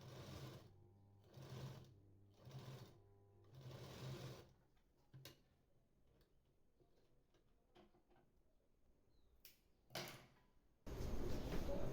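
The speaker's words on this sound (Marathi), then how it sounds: "आपण अजून एक टीप टाकून घेणार आहोत साईडला जेणेकरून आपण जी लेस लावतोय ती व्यवस्थित अटॅच होऊन जाईल" A sewing machine stitches lace onto a V-neck blouse in four short whirring bursts, followed by quiet handling clicks and fabric shuffling, then a final loud run of stitching close up.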